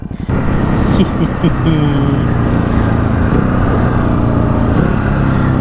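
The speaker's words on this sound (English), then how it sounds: "the engine at low speed isn't as lumpy as I thought it was going to be" A 2024 Ducati Hypermotard 950 SP engine running at low speed while riding, giving a steady low droning rumble with constant wind and road noise, loud and close throughout.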